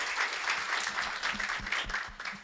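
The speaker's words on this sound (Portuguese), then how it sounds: "queria também pedir uma salva de palmas para o César também" A seated audience at a real estate presentation of the Horizon building claps for a colleague, a steady, fairly even wash of many hands, moderately loud and unbroken for the whole stretch.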